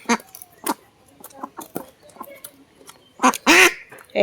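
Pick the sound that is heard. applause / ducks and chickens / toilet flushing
ducks and chickens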